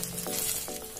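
Spinach vadi fritters sizzle steadily in a pan while being flipped with a spoon and knife, a brief close, continuous frying hiss with soft scraping touches.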